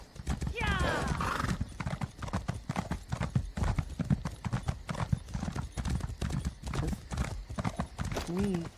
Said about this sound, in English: we're going to get on our slow horse right now.